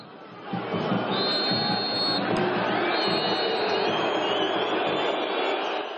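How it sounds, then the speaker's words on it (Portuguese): A large stadium crowd of Goiás football supporters roars continuously, a dense wash of voices that may carry booing, with a faint whistle-like tone drifting above it. "3-0 Goiás, com vaias e protestos do torcedor"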